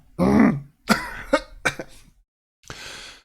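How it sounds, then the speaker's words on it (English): A person clears their throat several times in quick, harsh bursts, close up, followed by a short breathy rasp. "clear my throat"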